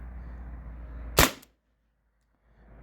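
A single sharp, loud shot from a modified T4E TR68 air gun firing a homemade 8-gram slug, a brief crack followed by near silence, over faint background hum.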